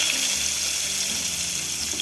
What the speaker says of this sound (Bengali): এক এক করে সব এঁচোড়গুলো দিয়ে দিচ্ছি গরম তেলে।